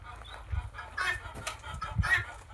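Native country chickens on a poultry farm cluck in short, scattered bursts, with a couple of louder calls standing out near and clear against a low farmyard hum.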